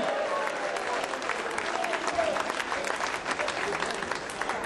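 Steady, dense applause from a senior citizens' association audience fills the room at a small concert by a singing innkeeper, loud and continuous throughout.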